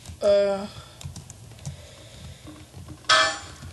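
Brief bursts of computer keyboard typing, a quick clatter at the start and another near the end, with quiet room noise and faint movement between.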